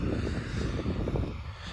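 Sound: tractor engine running while sowing rapeseed

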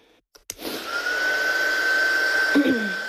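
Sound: drying ink on craft project with dryer

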